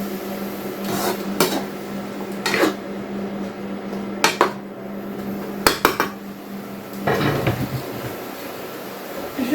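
Metal utensil scraping and clanking against a pan while food is stirred over lowered heat, a series of sharp knocks and scrapes at irregular intervals over a steady low background hum.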